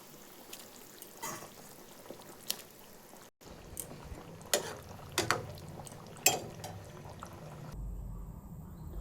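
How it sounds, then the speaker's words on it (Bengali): Pieces of catla fish drop one at a time into boiling water and yogurt gravy in a pan, giving a series of soft splashes and utensil clinks over a quiet simmer. "এবার আমি এখানে এক এক করে মাছ ছেড়ে দেব।"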